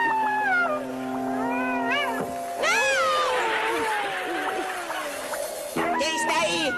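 A cat meows several times in rising, drawn-out calls, with a soft murmur of voices and background noise underneath.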